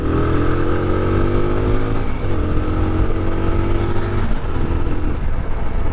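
A TVS Apache 200 4V motorcycle engine runs close by with a deep, steady exhaust rumble, its pitch dipping slightly now and then.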